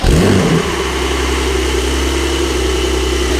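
A Porsche 992 Turbo S starts semi-warm, its engine flaring loudly for a brief moment before settling into a steady, close, droning idle.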